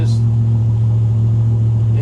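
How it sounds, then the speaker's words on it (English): The engine of a Luhrs 28 boat runs in neutral with no load, giving a loud, steady low drone with a constant hum throughout. "just the engine on its own in neutral"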